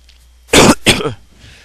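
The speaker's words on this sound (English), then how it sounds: "I do apologize that I'm trying to clear my throat" Two short, harsh coughs in quick succession, close and loud, with a rough throat-clearing quality, surrounded by near silence.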